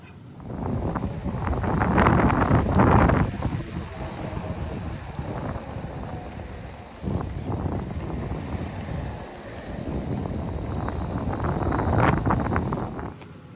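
Rider cruising on a Uditer 38-inch electric longboard with 105 mm wheels, steady rolling rumble and strong wind rush buffeting the microphone throughout, swelling louder in places, no talking.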